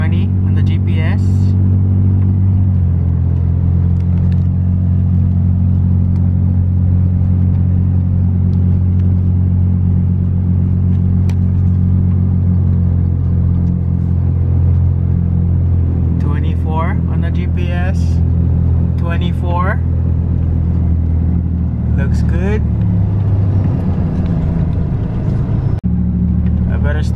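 A Toyota Tacoma truck drives along a road at around 20 mph, its engine a steady loud low rumble heard from inside the cab with continuous road noise, while someone talks over it at intervals.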